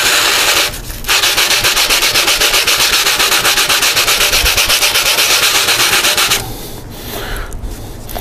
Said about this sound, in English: You want to take these and just lay them on the bottom like that and just sand